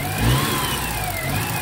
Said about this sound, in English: little Suzuki Cappuccino here, little twin cam, little sewing machine,